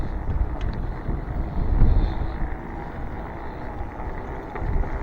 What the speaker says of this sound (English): This wind is gusting at 30 miles an hour today